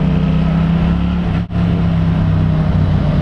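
A 2015 Yamaha FZ-07 carrying aftermarket parts drones with a steady, loud engine note that dips sharply for a split second mid-clip as it downshifts, then pulls on strongly while accelerating.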